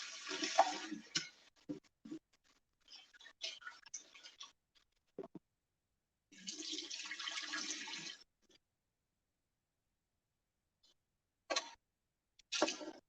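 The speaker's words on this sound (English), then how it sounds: "we'll give it a little quick rinse" Water running from a kitchen tap to give food a quick rinse, heard in short bursts and one longer stream, close and fairly quiet, separated by near-silent pauses.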